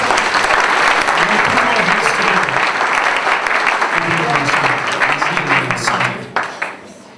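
A church audience applauds a pastor loudly and at length, dense sustained clapping with voices and cheers mixed in, thinning out into a few last claps at the end.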